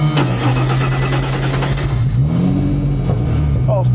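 A Nissan Micra 350SR fitted with a 350Z engine accelerates on a track, its steady mid-pitched drone climbing as it winds up, heard from inside the car under continuous voices.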